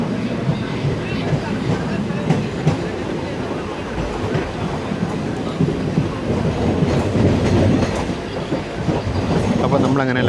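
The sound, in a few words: passenger train running on the line toward Shoranur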